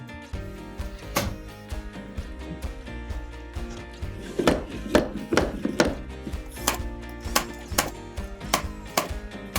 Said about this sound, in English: I'm double nailing the flooring with a nail gun